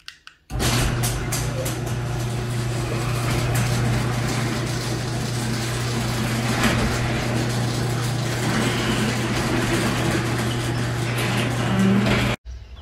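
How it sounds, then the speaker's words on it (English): A garage door opening: a steady mechanical rumble with a constant low motor hum runs for about twelve seconds, rattling evenly throughout before cutting off abruptly. "The garage door."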